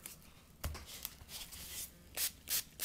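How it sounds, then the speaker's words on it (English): A few short hissing bursts of wig spray sprayed over a wig close by, separated by quiet rubbing noises, with two stronger bursts near the end. "Spray it all over."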